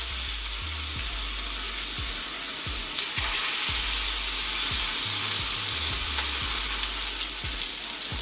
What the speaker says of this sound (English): The oil is hot, and I'm just gonna sear my pork chops on both sides.